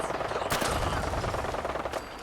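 Vertibird air support opening fire in Fallout 4, a dense rattle of rapid gunfire with a sharp louder burst near the start and another near the end, loud and continuous throughout.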